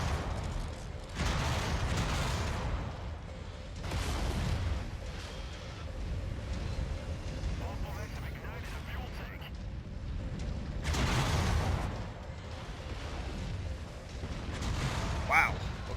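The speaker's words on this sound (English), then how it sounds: "Wow. Okay, so ammo explosions are bad." Deep booming ammunition explosions in a mech combat game erupt several times, separated by rumbling lulls, with a final sharper crack near the end.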